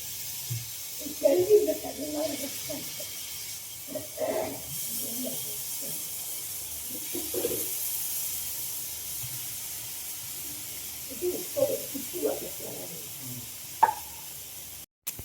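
Paneer frying in a little ghee on a hot tawa gives off a soft, steady sizzle and hiss that stays low beneath someone talking for most of the stretch.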